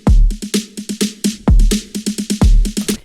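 Electronic build-up sample with an added kick drum: heavy low kicks land about once a second beneath rapid bright snare-like stabs and choppy rhythmic hits, loud and dense with no voices.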